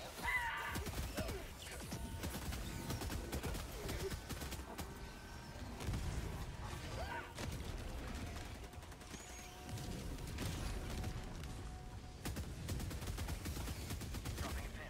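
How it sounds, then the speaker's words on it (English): An orbital barrage strike lands in a video game as a steady stream of crashing blasts and rapid gunfire-like impacts for about fifteen seconds, moderately loud with no pauses. "Orbital barrage incoming. Stand clear."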